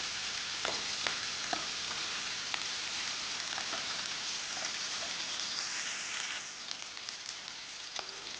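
Vegetables for street-style veg noodles sautéing in a hot pan, a steady close sizzle with a few sharp crackles and stir clicks scattered throughout, no voices.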